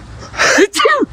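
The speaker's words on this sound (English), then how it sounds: "Every time it gets to be this time of year, I start sneezing." A spring-pollen sneeze bursts out in a close, brief two-part rush of breath in an outdoor spot with blooming plants, with a bit of talk just before it.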